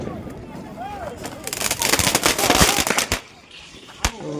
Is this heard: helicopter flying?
no